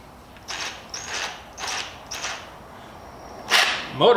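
A DeWalt impact driver with its broken-off nose is run in several short bursts, four quick motor whirs evenly spaced, then a louder burst and a final clattering one, close by and with no talk.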